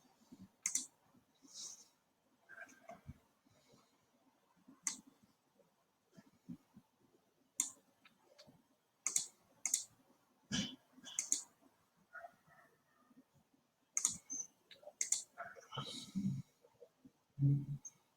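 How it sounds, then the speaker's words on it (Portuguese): A computer mouse clicks repeatedly during work in an Access database, sharp isolated clicks spaced irregularly, close and fairly loud against a quiet room with faint murmuring. "Vou clicar."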